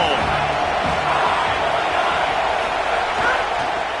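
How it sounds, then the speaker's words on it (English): A big football stadium crowd at an Auburn game roars in a steady, broad wash of cheering noise that never drops, with a commentator talking over it. "This crowd ready to make its presence known"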